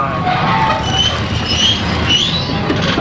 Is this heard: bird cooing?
no